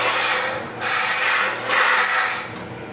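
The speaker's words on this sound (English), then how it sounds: "I'll take some of it off with my roughing gouge" A roughing gouge cuts wood on a spindle turning on a lathe, making loud, close, continuous rasping in three long passes separated by brief dips.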